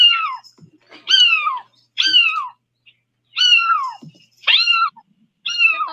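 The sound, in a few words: cat meowing, said to sound like a bird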